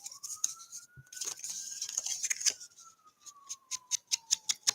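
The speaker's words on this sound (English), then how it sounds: "You're hearing sirens out there." A siren wails outside at a distance, a steady tone slowly rising and then falling, while sharp clicking and tapping sounds nearby pulse in an irregular then quickening rhythm.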